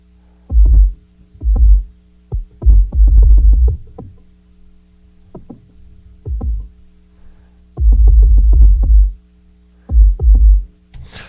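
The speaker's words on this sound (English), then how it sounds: "Let's solo the kick track just so you can hear how it sounds." A soloed kick drum track from an R&B mix plays alone, deep booming hits in short clustered bursts with pauses between, steady low hum underneath.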